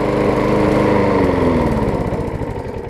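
A rusty, modified Murray push mower engine runs loud and close, a steady rattling small-engine drone that eases slightly toward the end.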